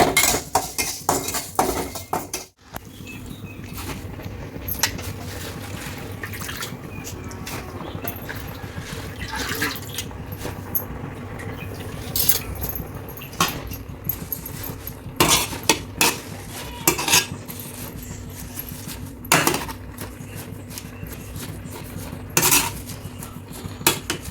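Metal utensils clink and clatter against a cooking pot as washed sorrel leaves go into boiling water with garlic, a long run of sharp, irregular knocks over a low bubbling background.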